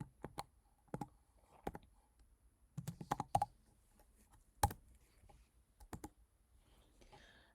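Keys tapped on a computer keyboard while entering a JavaScript expression in browser developer tools, with sparse, irregular clicks in short clusters, close and quiet in an otherwise silent room.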